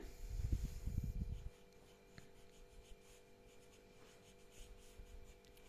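A pen scratches briefly on paper while a language exercise is written out by hand, a soft close scribble that stops after about a second, leaving faint room quiet.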